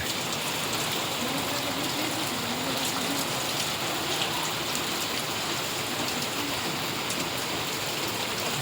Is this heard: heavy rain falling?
yes